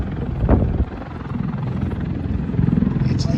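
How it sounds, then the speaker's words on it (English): Helicopter flying at an air national guard base airshow, a loud near rotor thump and engine roar with pulsing beats and wind buffeting, no talk. "Stay away from the helicopter."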